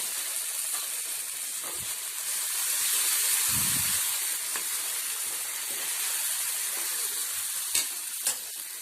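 Millet flour batter sizzling as it hits a hot pan with grated coconut, a steady bright hiss with a brief low bubbling swell midway and a couple of sharp clicks near the end.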